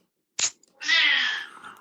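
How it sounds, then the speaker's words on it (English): A house cat makes a sharp short click followed by a clear, drawn-out meow close by, loud and alone. "Spyro is definitely the most opinionated of our cats"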